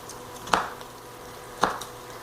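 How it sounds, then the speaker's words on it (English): A knife slicing into an onion on a cutting board: two crisp, separate chops about a second apart, each a sharp tap with a brief crunchy tail, close and fairly quiet. "We're going to cut through the onion about 3 to 4 times, about 3/4 of the way through the onion."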